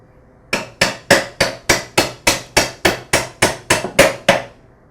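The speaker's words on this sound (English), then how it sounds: "use a hammer to slowly tap the pivot pin back into the saw" A hammer taps a pivot pin back into a DeWALT DW708 miter saw, about fourteen sharp metallic strikes in a steady even rhythm, loud and close with no talking.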